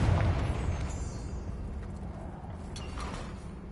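A Confringo spell blast in Hogwarts Legacy, set in a cavern: a heavy explosive boom at the start that rolls into a fading rumble with scattered debris crackles.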